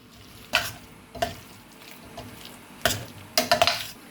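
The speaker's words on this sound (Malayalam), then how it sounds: "അതിനകത്തേക്ക് നമുക്ക് ചിക്കൻ കഴുകി വൃത്തിയാക്കി വെച്ചേക്കുന്നത് ഇട്ട് കൊടുക്കാം. നന്നായി ഒന്ന് ഇളക്കി കൊടുക്കാം." Washed chicken pieces drop into a hot pan for a Kerala-style chicken curry, then get stirred, giving several loud scraping, sizzling bursts separated by short pauses over a low frying hiss.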